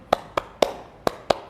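Six sharp hand claps ring out in an uneven rhythm, demonstrating how to clap during prayer, each one crisp and close with no talk over them.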